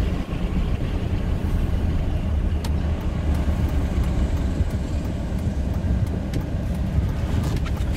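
A stock 2008 Dodge Ram 1500 pickup drives along, its steady engine and road rumble heard from inside the cab as a constant, moderately loud drone with no talking.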